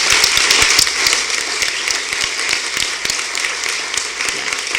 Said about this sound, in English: give a very warm round of applause to Tamara and our panelists